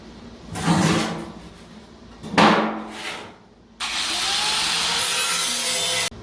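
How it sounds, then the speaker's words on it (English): An angle grinder cleans a rusty rat rod metal fender before welding: two short loud grinding passes, then a long, steady, close harsh grind lasting a couple of seconds before it cuts off. "now I'm going to start grinding on this and get this cleaned up and ready to weld"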